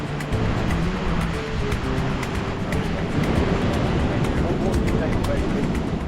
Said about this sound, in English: The waves aren't as big as last time, but still the current will put you right out.